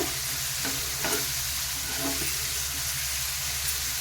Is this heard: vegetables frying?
yes